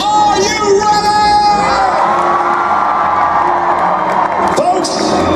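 A large convention crowd at Awesome Con 2018 cheers, whoops and shouts loudly and continuously for John Boyega, with a voice over a loudspeaker speaking over the din.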